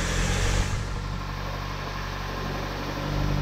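A car engine, on a vehicle suspected of having a failing alternator, catches and settles into a steady, close idle rumble, with no talk over it.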